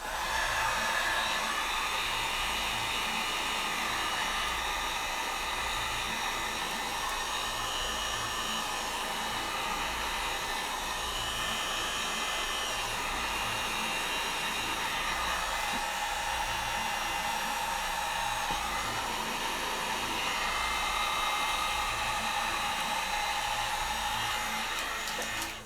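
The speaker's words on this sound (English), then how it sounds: "I'm going to heat shrink this" A heat gun blows steadily and closely while shrinking tubing on an FPV drone build, a constant airy roar that holds for about twenty-five seconds without a break.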